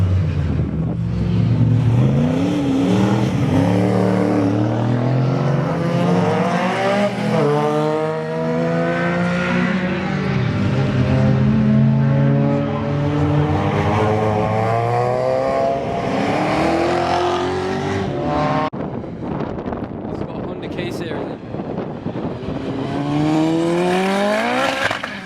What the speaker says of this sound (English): it's got a Honda engine in, it's turboed.